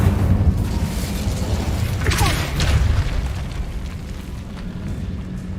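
Incendio fire spell cast in Hogwarts Legacy: a dense, roaring whoosh with a brief rising crackle near the middle, set over a steady loud rumble of game ambience, with no talking.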